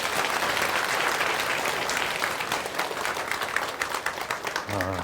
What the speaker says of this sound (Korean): 이율수 목사님 나오실 때 큰 박수로 환영해 주세요